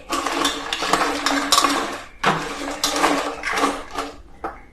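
Raw crab pieces tossed with salt in a pot, producing loud, close clattering and rattling of shells against metal in two rough bursts of stirring, with a short clink at the end.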